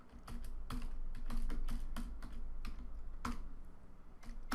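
Close, fast clicking of a computer keyboard as code is typed in Android Studio, with irregular keystrokes running steadily and no voices over them.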